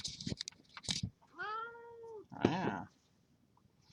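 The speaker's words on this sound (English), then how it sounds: "I've got a cat asking for attention." A house cat meows several times up close, with short chirps and one long drawn-out meow asking for attention, and someone briefly speaks.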